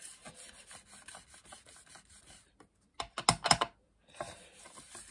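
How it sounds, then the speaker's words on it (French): Close scratchy rubbing sounds come from ink being worked onto music paper, short uneven strokes with a brief pause and then a denser flurry of rasping swipes, quiet and near with no speech. "On frotte notre papier musique."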